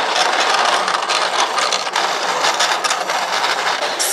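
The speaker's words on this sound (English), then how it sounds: "So I have my cutters going and my printer is printing, so there's a lot of noise" Craft cutting machines running alongside a printer at work indoors, a loud dense mechanical whirring and rattling that fills the whole stretch without pause, with no voices over it.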